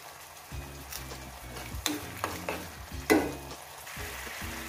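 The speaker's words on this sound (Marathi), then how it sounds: "आपल्याला ही प्युरी भाजून घ्यायची आहे" Raw tomato puree frying in oil in a pan, a low sizzle with a few spoon scrapes and knocks, partly masked by background music.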